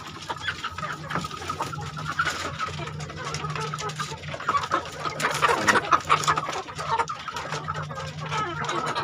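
Chickens cluck and chatter continuously nearby, a busy flock with overlapping calls and occasional louder squawks over a low background hum.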